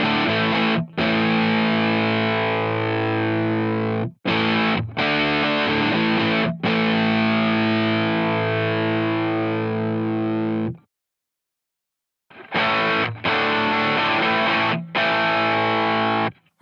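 An electric guitar runs through the Anxiety distortion effect on a Headrush unit. Sustained, heavily distorted chords ring out in several long strums, broken by short pauses and one longer silence before the playing resumes.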